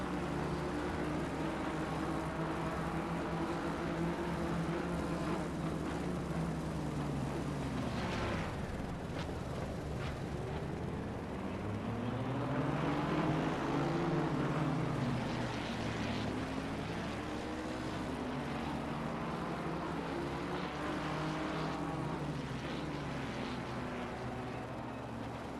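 GT3 race cars in a racing game at the Nürburgring, with a BMW in the slipstream. Engines drone and howl in continuous overlapping sweeps as they rise and fall through gears, steady and loud throughout.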